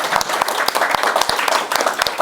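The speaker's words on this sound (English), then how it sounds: "Give us a round of applause." An audience bursts into applause at a lecture, a dense, lively patter of many hands clapping close by for a couple of seconds.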